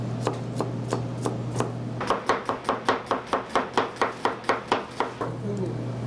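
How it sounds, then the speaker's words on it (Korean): Knife chopping food on a board in a restaurant kitchen, a quick run of about a dozen sharp, evenly spaced chops close by, with softer cuts before it and a steady low hum throughout. "당연히 음식하는 사람이 칼질 잘해야죠"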